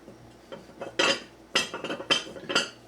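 Vintage Corning Ware glass lids clink and knock against a 1.5-liter Corning Ware batter bowl, several sharp close taps and scrapes in quick succession with no voices.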